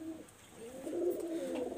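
A teddy pigeon coos softly at close range, a low throaty rolling call rising and falling over a couple of seconds, alone and faint.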